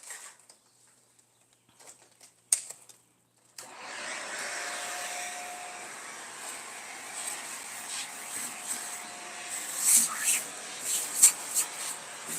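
A vacuum cleaner starts up after a few seconds of quiet and then runs steadily as a broad whooshing drone while someone cleans a dusty apartment, with brief voices and small knocks over it.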